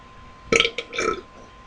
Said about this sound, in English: no burp taste from that burp